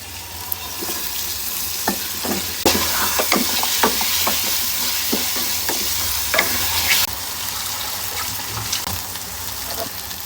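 Dried ribbonfish being fried and stirred into cooked-down spices in a pan, a steady close sizzle broken by repeated sharp scrapes and clinks of the stirring spoon, with no talking.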